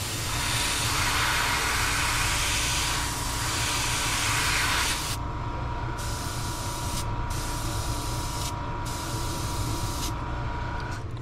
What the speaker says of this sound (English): we just want to give it a light spray